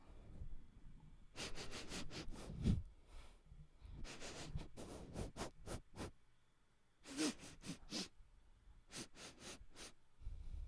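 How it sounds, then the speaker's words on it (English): Close-up ASMR sniffing into a microphone during a stream: repeated short nasal inhales in quick bursts, loud and intimate, with brief pauses between clusters and no talking. "And now we'll do sniffs."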